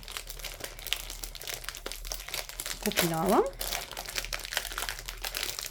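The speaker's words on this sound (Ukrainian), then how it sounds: "І одразу я розпакую." Plastic packaging of an embroidery kit crinkles and rustles as it is unpacked, a close crackling burst in the middle of the stretch under quiet ambient noise, while someone talks briefly.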